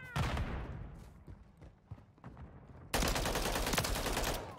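Gunfire in Call of Duty Modern Warfare III: a loud opening burst, then scattered shots and rattling, and finally a dense, sustained barrage that resumes suddenly and continues to the end.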